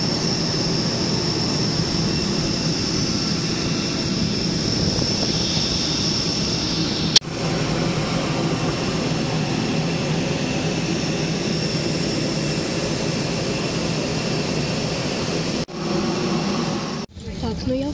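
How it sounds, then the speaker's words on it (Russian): Airbus A321-200 jet engines heard from inside the passenger cabin, a steady broadband roar filling the whole stretch with a brief click near the middle and small disturbances toward the end. "сегодня мы летим в Сочи. На Airbus A321 авиакомпании Урал Airlines."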